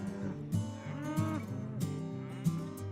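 Cows on a regenerative farm low repeatedly, several drawn-out nasal moos overlapping close by, with short breathy bursts between calls.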